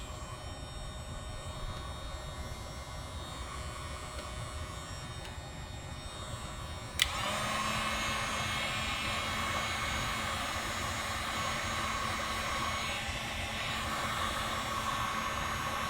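Heat gun warming the glue behind a badge on a 2019 Dodge Charger R/T, a steady close blowing whoosh that rises sharply after a click partway through and keeps running evenly.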